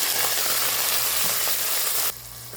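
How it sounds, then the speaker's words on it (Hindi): Minced keema with chopped garlic frying in hot oil gives a loud, steady, dense sizzle that drops sharply in level near the end, with no voices. "गार्लिक की हल्की सी खुशबू आ जाए तो हम इसमें अपना पाव किलो कीमा डालेंगे"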